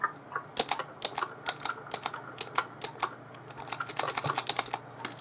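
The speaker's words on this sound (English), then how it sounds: "I'm going to hit this key." Computer keyboard keys clack in quick irregular bursts of single presses in the chat game Emily Is Away, close and crisp with no voice over them.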